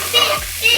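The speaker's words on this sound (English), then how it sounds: "I'm just going to start by frying the red pepper and the spring onions" Red pepper and spring onions sizzle steadily in a hot pan close up, with a soft stirring scrape partway through.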